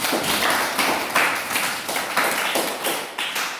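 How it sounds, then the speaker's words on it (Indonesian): Students in a classroom clap for their classmates, a close, rhythmic burst of hand claps in regular pulses, lively and fairly loud throughout. "tepuk tangan untuk teman-teman"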